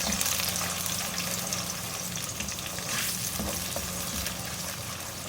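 Steady loud sizzling of blended onion paste frying in a pan, with occasional stirring scrapes, close up and continuous.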